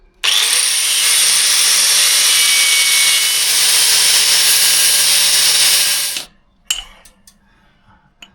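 A power tool cuts steadily into a seized exhaust nut on an Austin Allegro for about six seconds, loud and close, then stops, followed by a short metallic clank.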